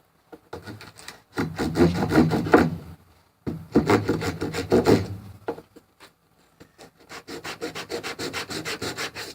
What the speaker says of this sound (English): I'm going to use this little sanding block that already has some sandpaper in it